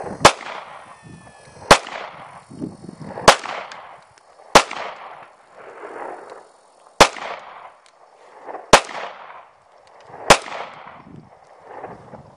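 Handgun fitted with speed sights fired at a range target: seven sharp, loud shots at irregular intervals of about one to two seconds, each trailing off in a short echo, with quiet gaps between.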